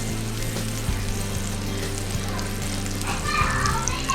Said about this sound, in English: Now we're going to take not that much butter and get that going around.